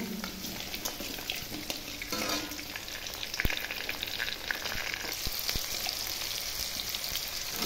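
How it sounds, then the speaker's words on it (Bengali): Potatoes frying in hot oil give a steady, dense sizzle that runs the whole time, with a few soft clinks and knocks from the pan partway through. "তেলটা গরম হয়ে গেছে, আমি আলু দিয়ে দিচ্ছি। আলুগুলো এখন ভেজে তুলে নেব।"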